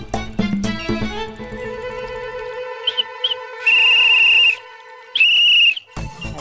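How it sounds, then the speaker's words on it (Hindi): Two long, loud, shrill blasts on a whistle sound close by, separated by a short pause, following some brief clicks and scattered noises. "बोल रहे हो या फिर सीटी बजा रहे हो?"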